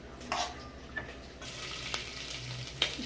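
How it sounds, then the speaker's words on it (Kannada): Lentils frying with curry leaves in a pan as they are stirred, a low steady sizzle broken by a few sharp scraping clinks of the spoon against the pan, close and with no talk. "ಫ್ರೈ ಮಿಕ್ಸ್ ಮಾಡ್ತಾಯಿದ್ದೀನಿ ನೋಡಿ ಬೇಳೆ ಬೇಳೆ ಈ ಥರ ಕಾಡಬೇಕು"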